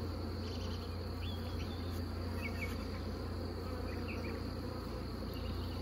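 Honey bees from a large backyard swarm buzz in a continuous droning hum, steady and close, with faint bird chirps in the background.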